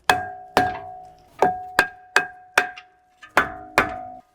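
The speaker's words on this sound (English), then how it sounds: "we can take a rubber mallet" A rubber mallet strikes the brake rotor on a 2019 BMW G05 X5 front hub, heard as eight loud, close, ringing thunks at a steady, slightly uneven pace.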